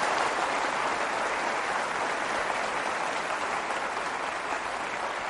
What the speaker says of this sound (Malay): Kita berikan tepukan kepada persembahan mereka tadi.